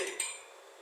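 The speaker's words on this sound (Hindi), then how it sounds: "बर्तन लेंगे, हिचका भी ले सकते हैं, कढ़ाई भी ले सकते हैं, फ्राई पैन भी ले सकते हैं। तो हम रखेंगे फ्लेम पे।" Metal cookware such as a karahi, degchi or frying pan clinks against a gas stove grate as it is set over the flame: one sharp metallic clank with a short ringing tail, close and alone.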